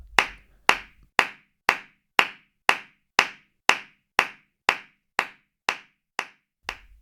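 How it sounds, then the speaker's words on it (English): Solo flamenco palmas, single sharp hand claps spaced evenly at about two per second in compás, close, dry and alone with no voices. "what is heard is the real sound of hand clapping"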